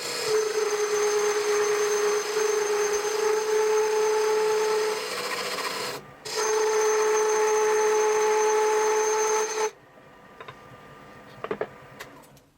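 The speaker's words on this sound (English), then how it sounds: "we're going to go over to the lathe and we're going to turn a tenon that is 3/4 of an inch long" A wood lathe spins steadily while a tool turns a tenon on a file handle, giving a loud tonal whir with a brief dip around six seconds, then cutting off to quiet with a few light clicks.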